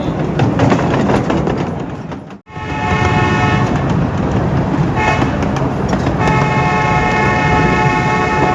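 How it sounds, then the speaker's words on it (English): A locomotive on the Wabash, Frisco & Pacific railroad hauls its train back toward Glencoe Station, rumbling loudly with sustained horn blasts, a brief dropout mid-run, then horn tones again. "With our locomotive turned and run around the train, we reverse course for the 1-mile trek back to Glencoe Station."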